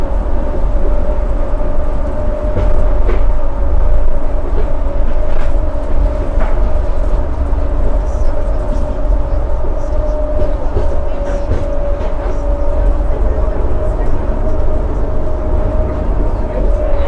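A northbound light rail train runs along its tracks between stations, a loud continuous rumble and roar with faint clicks and squeals throughout, heard close up and steady for the whole stretch.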